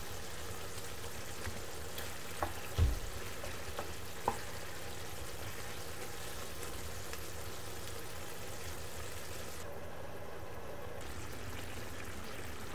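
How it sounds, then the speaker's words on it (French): Tunisian ojja with merguez sausage simmers in a covered pan, giving a soft, steady bubbling sizzle that stays faint and even throughout, with a couple of small clinks early on. "Je couvre et je laisse mijoter pendant 5 à 6 minutes."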